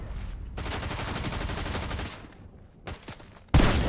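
Gunshots in Fortnite ring out as a rapid automatic burst lasting about a second and a half, then fade to a few sporadic shots and end in a sharp, loud blast.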